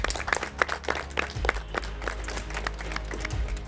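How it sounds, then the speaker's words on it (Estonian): Audience clapping at a reality show season finale comes through as a brief, moderately loud burst of applause over a low background rumble. "Tehke üks suur aplaus endale."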